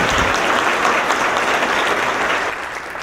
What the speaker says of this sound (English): let's give another round of applause to all the award recipients because it's a great accomplishment.